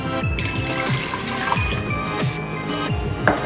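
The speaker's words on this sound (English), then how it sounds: "I'm gonna put two cups of water inside." Two cups of water poured into an Instant Pot, a close, continuous trickle and splash of liquid with small clinks and gurgles running throughout.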